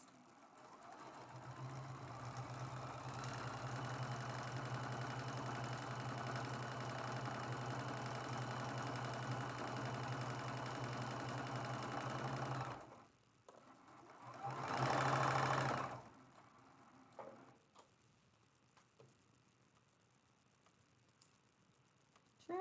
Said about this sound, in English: we're going to sew this seam with a 1/4 inch seam allowance